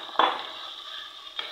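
Minced meat keema frying in oil with onion, garlic, ginger and whole garam masala, with a soft even sizzle under a steady high whine and two brief stirring scrapes of the spatula.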